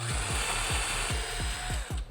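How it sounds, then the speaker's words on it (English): A drill bores a 1/4 inch hole into a wooden dowel, its motor whine steady and close while the bit chatters in quick regular pulses, roughly eight bites in two seconds, with no talking. "I'm gonna drill a 1/4 inch hole so that this can go into this"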